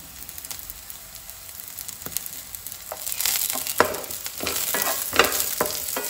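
Half-fried onion with garlic and green chili sizzling in a pan for a Goan egg drop curry, the frying growing louder midway as a spoon stirs and scrapes in uneven close strokes.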